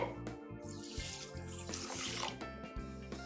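Water is poured in a steady, quiet stream over two cups of sugar to make syrup, with soft background music playing underneath.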